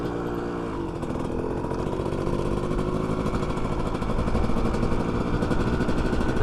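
A dirt bike engine drones steadily as the rider slows and downshifts, its revs buzzing and rising slightly near the end, heard close and without talk.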